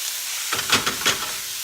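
Chopped onions and garlic hit a hot pan for rabbit and duck burgers, giving a sudden rising hiss with a few crackling bursts that settle into a steady, close sizzle.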